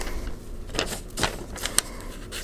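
A pen scratches across paper in a few quick, dry strokes, noting a tally of crocheted patchwork squares; close and fairly quiet, with no talking.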